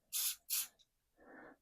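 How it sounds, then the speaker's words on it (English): Two strong bursts of aerosol spray as anaerobic primer activator is applied to screws, followed by a short faint hiss and then a softer, lower rushing spray, all close and with no talking. "basically you just spray it on, let it sit for 30 to 90 seconds till it's dry"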